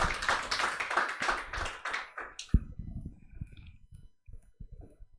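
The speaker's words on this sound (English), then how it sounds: "Let's clap for her" A small audience claps for a girl modeling at a workshop, a burst of close hand claps for about two seconds that thins into scattered taps and faint murmuring.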